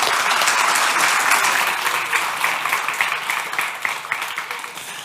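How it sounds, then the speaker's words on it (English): A church congregation applauding at a celebration Sunday service, loud dense clapping from many people that gradually thins and softens over several seconds. "Can we give these guys a round of applause?"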